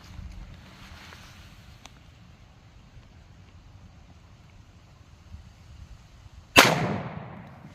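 A single loud, sharp gunshot cracks out from a 5-inch Bonded Defense 1911 pistol firing DoubleTap 230-grain .450 SMC ammo into a gel block 15 feet away, following several seconds of quiet outdoor wind, and the report rings briefly into a decaying tail.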